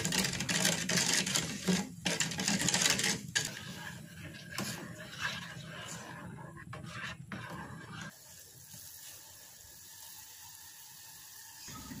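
A spoon stirs a mixture in a cooking pot over medium-low heat, making clinking and scraping sounds against the metal. The sounds are busiest early on, then ease into a quieter, steady background with no talking.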